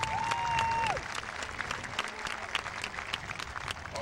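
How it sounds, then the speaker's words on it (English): A crowd at a youth Pony baseball opening day applauds the coaches, steady dense clapping from many people, with a brief whistle-like tone near the start and scattered louder claps. "let's give the coaches a round of applause."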